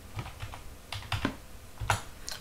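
A command typed on a computer keyboard into a Linux terminal, a close, uneven run of key taps with a few heavier strokes and no talking.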